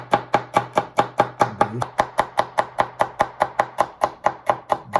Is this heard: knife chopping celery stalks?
yes